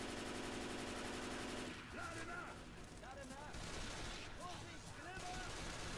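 Rapid automatic gunfire in the game Left 4 Dead 2, continuous rattling bursts with voices talking over the shooting, all fairly faint overall.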